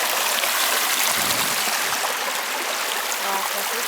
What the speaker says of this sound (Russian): Ручей с поваленными деревьями.